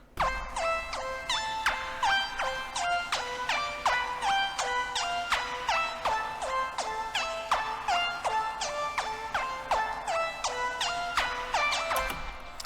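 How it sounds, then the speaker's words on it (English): Bright, short synth plucks repeat in a quick steady rhythm, forming a sparkling melodic pattern with no voices, layered into a beat for space. "I then layered that with some plucks to give it some more space."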